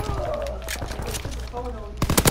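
A PPSh submachine gun fires in a video game, with rapid automatic bursts and a louder close burst at the end, all under ongoing speech.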